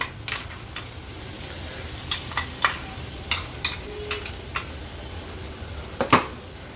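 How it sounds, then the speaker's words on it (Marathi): Ground spice paste with turmeric and peanut powder sautés in a spoonful of oil in a pan, a soft steady sizzle under repeated sharp scrapes and clicks of a spoon stirring against the metal, close up with no talking. "अगदी 2 मिनिटांसाठी आपल्याला हे वाटण असं तेलावर परतून घ्यायचं आहे"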